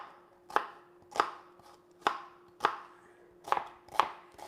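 A knife chops through vegetables onto a cutting board in six crisp, evenly spaced strikes, close up in a quiet room.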